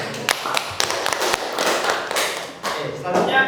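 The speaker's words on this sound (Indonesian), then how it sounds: "Beri tepuk tangan." A class of students claps for a group that has just finished presenting during a computational-thinking lesson, producing dense, uneven applause with sharp individual claps, loud and close, with some voices mixed in.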